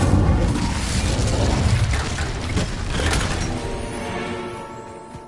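An Incendio fire spell cast in a Harry Potter video game erupts as a loud whooshing burst that rumbles and crackles, then fades over several seconds with no talk.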